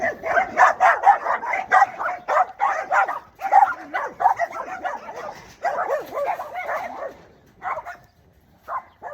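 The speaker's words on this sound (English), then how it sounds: "Let's take a walk featuring the dogs." Several dogs bark in a busy, overlapping run of yips and bow-wows, fairly close and loud, with brief pauses toward the end.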